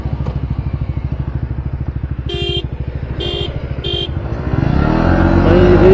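KTM Duke 250 and Yamaha R15 V3 motorcycles in a drag race: a rapid idling putter with short high beeps, then the engines surge into a loud rising roar as they launch, heard close by.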